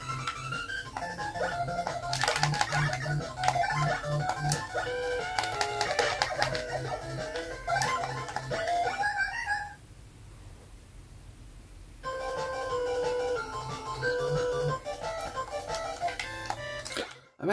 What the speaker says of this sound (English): if the audio wasn't broken on this system, this would actually be a pretty cool sounding soundtrack